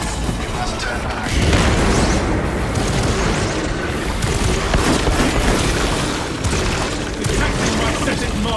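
A grenade explosion in the Warhammer 40,000: Space Marine 2 video game: a loud, broad boom rolls out and sustains as rumbling blast noise amid continuous battle sounds, with a voice line briefly over it.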